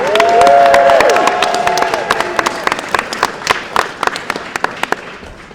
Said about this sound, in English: Give a round of applause for Representative Fitzgibbon.